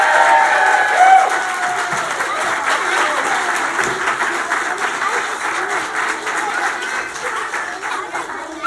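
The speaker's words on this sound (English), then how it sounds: "One more round of applause" Audience applause and cheering after a kindergarten play, a loud sustained crowd of clapping with scattered cheers and voices mixed in.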